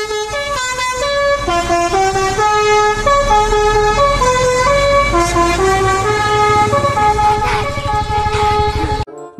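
A Dewi Sri bus passes, sounding a loud melodic multi-tone horn that plays a running tune for several seconds before cutting off abruptly, with its engine rumbling beneath.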